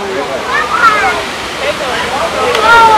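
Waterfall at Bica do Ipu in Ceará during Carnaval, a steady rushing roar of falling water with a person talking over it close to the microphone.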